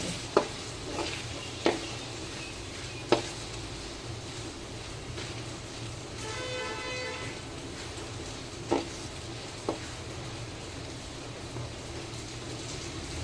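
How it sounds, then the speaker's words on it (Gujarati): Tomatoes sautéing in a pan for street-style pav bhaji, a steady soft sizzle broken by occasional sharp clinks and scrapes of a spoon stirring against the pan. "ટામેટાને 10 થી 15 મિનિટ સુધી એને સતરાવા દઈશું."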